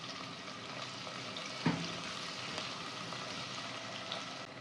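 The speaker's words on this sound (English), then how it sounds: "Now add finely chopped onions and cook them until golden brown." Finely chopped onions frying with whole spices in a pan for mutton stew, a steady soft sizzle with a brief stirring clatter and no talk.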